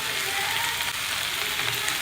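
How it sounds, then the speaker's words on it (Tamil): Drumstick leaves (murungai keerai) sauté with onion in a pan, giving a steady, dense sizzle that stays even throughout the short stretch, with no voices. "கீரை உள்ளி வதங்கின உடனே முருங்கைக்கீரையை போட்டாச்சு. வதக்குனா கொஞ்சோண்டு தான் இருக்கும்."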